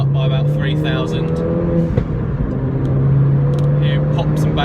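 A modified 240 bhp Ford Fiesta ST pulls in third gear as its turbo spools up from about 3,000 rpm, a loud, close engine drone that runs continuously beneath someone talking.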